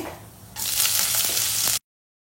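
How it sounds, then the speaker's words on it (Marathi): Chana dal and ginger pieces sizzle as they fry in a pan, with a sudden loud burst of crackling that holds steady and then cuts off abruptly. No one speaks. "चण्याची डाळ छान लालसर होईपर्यंत परतून घ्यायची आहे"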